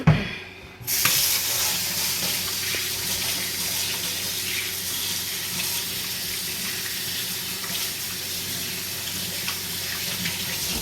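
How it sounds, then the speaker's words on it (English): Tap water runs steadily into a sink for hand washing in a home kitchen, a continuous broadband hiss that starts abruptly after a brief pause and holds at an even level throughout. "and I'm gonna wash my hand."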